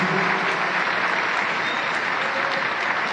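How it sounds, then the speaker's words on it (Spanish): Audience at the opening of the International Culture Festival in Potosí, Bolivia, applauds in a dense, steady wash of clapping from a large crowd, sustained and fairly loud throughout. "el aplauso, por favor,"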